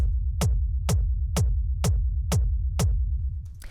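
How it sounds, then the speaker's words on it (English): A processed techno rumble kick drum thumping in a steady four-on-the-floor pulse, about seven hits with a sharp click on each and a low rumbling tail between them, loud and alone. "And so it's a pretty standard rumble kick."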